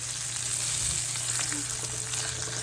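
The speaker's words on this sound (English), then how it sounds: "I'm just going to flip those pork chops just so they can get golden brown" Pork chops sizzle and fry steadily in a hot pan as they are flipped, a close, continuous crackling hiss with a low hum underneath and no talking.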